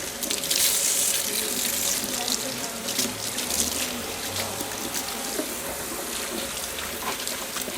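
Tap water runs steadily into a salon sink, rinsing Goldwell hair color from hair. The hiss is continuous and close, with faint splashing shifts as the flow hits the hair.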